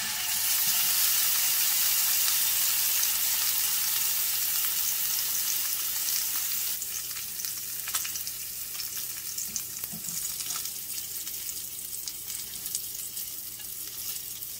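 Salmon fillet searing flesh side down in a hot pan gives a loud, steady oil sizzle that eases slightly midway, with occasional spatter pops and no talking.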